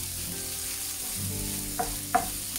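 Garlic frying in a pan for a green tomato and chilli dip, a steady close sizzle that runs throughout with a couple of light stirring clinks near the end and no talking.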